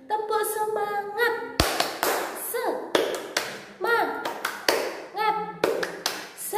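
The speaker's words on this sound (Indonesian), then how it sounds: "Ustazah ajak kalian tepuk semangat" Children in a classroom clap a rhythmic cheer pattern along with their teacher, a quick series of sharp hand claps and taps grouped in bursts, with sung chant voices between and over the claps.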